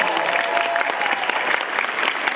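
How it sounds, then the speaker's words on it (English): Enthusiastic applause from a comic convention Q&A crowd, rapid overlapping claps filling the whole moment at a steady, loud level. "You got a woman standing up and clapping"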